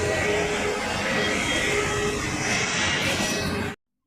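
Steady, loud engine roar of a parked passenger plane heard up close at the aircraft, a dense continuous rush that holds level and then cuts off abruptly near the end, with no voices.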